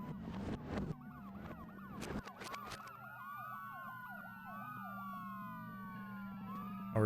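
An ambulance siren in a horror video game wails in rising and falling sweeps at moderate volume. It is preceded by several sharp thumps and clatters, and a low engine hum runs beneath it.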